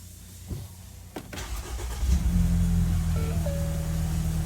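A 2015 Ford Kuga being switched on: a few clicks and a starter crank, then the engine catches and settles into a steady close idle hum with a faint electronic chime.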